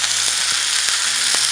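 Chicken pieces fry in sunflower oil in a well-heated pan, producing a constant, even hiss with a few faint clicks of the pan.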